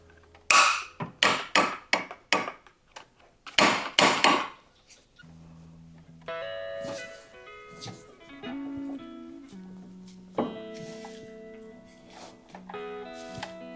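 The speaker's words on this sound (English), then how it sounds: "I'm just gonna try to hammer this free" Sharp metal hammer strikes ring out in quick bursts, about a dozen loud blows knocking stuck vise grips free on a Honda mower with a stuck valve, followed by quieter creaking and scraping metallic sounds.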